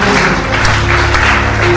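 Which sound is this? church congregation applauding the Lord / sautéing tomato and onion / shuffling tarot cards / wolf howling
church congregation applauding the Lord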